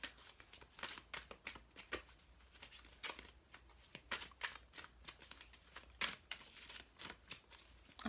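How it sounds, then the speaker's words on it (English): Oracle cards are shuffled and pulled during a spiritual love tarot reading, giving a run of soft, close, irregular riffling and papery slaps and flicks with no talking. "I'm going to pull one more oracle card to close this reading out"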